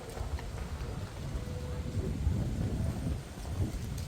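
Strong wind blows at Ilbungsa, a cave temple in Uiryeong, Korea, as a continuous gusty roar and low rumble buffeting the microphone throughout, with no clear quiet gaps.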